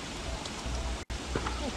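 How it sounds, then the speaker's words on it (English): Steady rain falls in the video game Don't Starve Together, a continuous hiss of noise with a brief cut partway through and faint voices underneath. "Why is it so rainy?"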